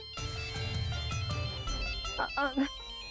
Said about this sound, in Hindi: एक्चुअली बहुत ही अर्जेंट फोन कॉल है, मुझे अटेंड करना पड़ेगा